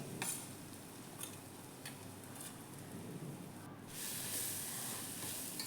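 A crushed coconut and raw mango mix frying in oil with softened onions in a pan gives a steady, soft sizzling hiss with faint ticks of stirring, swelling slightly louder toward the end.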